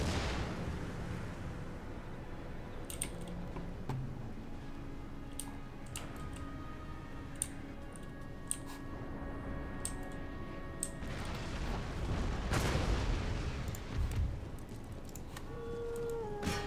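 Artillery fire in Empire: Total War during a United States campaign battle, heard as a dense, steady rumble of distant cannon and musket volleys with scattered sharp cracks and a heavier surge of blasts near the end.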